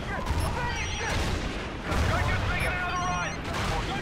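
Gunfire in the Call of Duty: Ghosts video game, with dense bursts of shots and booming impacts rolling through the whole stretch under excited voices talking.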